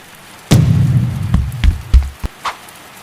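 In the video game Sakura School Simulator, rain suddenly begins with a loud rushing burst. Several heavy, thudding hits follow at uneven intervals, close and prominent, and no one speaks.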